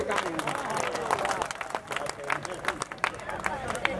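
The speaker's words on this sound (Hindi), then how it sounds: "उसकी तालियों की आवाज इतनी जोरदार होनी चाहिए कि बाहर बैठे लाखों बेईमानों के होश ठिकाने हैं" Audience applause at a Hindi comic poetry mushaira in Mumbai: a steady patter of many hands clapping through a hall, mixed with crowd murmur and voices.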